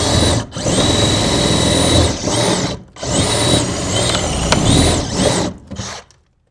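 A power drill whirs loudly and close in several bursts, running through about four spells of drilling separated by short pauses while boring holes for pulling wire, then stopping.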